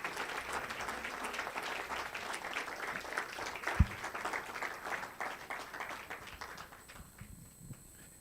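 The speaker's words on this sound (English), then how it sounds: "A round of applause, please." Audience applause at a nutrition conference event in Kenya, a dense crowd clapping steadily for several seconds with one sharp thump midway, then thinning and fading out near the end.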